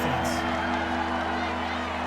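A steady roar from the stadium crowd at an NFL game between the Houston Texans and Jacksonville Jaguars, sustained and loud without letup, with a low hum underneath.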